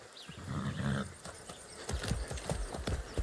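A horse in the video game Far Cry 6 clip-clops at close range with a brief whinny, hooves thudding in an uneven rhythm that picks up toward the end.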